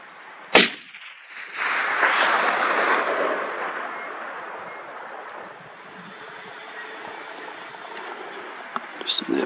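A single loud .308 Winchester rifle shot fired at a hog during long-range hunting, sharp crack near the start followed by a long rolling echo and wind noise, with a faint click near the end.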